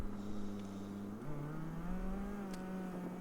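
Car driving down the road, a steady engine hum with a droning tone that shifts slightly in pitch as it moves along, heard from inside the vehicle at moderate loudness, with no voices.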